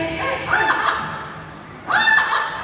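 At a bird show, a trained bird gives a rooster-like crow twice, each call loud and close with a short pause between, over faint crowd murmur.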